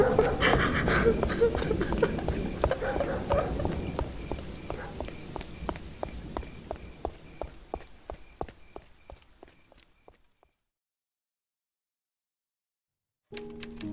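Heavy rain patters and splashes steadily at first, with drops and scattered taps growing sparser until the sound cuts to silence near the end, then briefly returns.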